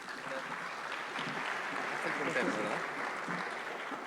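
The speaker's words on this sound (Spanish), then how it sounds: "lo recibimos con un muy fuerte aplauso, por favor." A legal congress audience applauds to welcome a speaker, steady dense clapping from a large room heard at a moderate distance, with some murmuring underneath.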